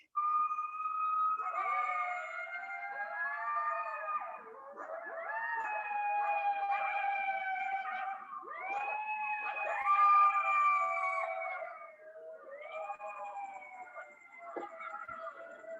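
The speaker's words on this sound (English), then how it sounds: "That recording was some coyotes hearing an ambulance" Coyotes howl and yip in a group chorus set off by an ambulance siren, long wavering wails rising and falling together, loud and continuous with a brief dip before a final round of howls.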